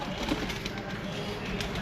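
Breeder pigeons cooing softly in a loft, low faint murmuring coos under a background hum, with someone talking nearby.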